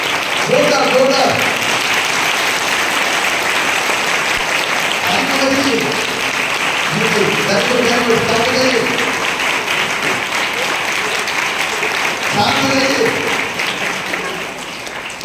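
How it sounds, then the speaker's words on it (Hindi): An audience gives loud, sustained applause before a Christmas play, a dense continuous wash of clapping with voices calling out intermittently beneath it. "जोरदार ताली बजाइए"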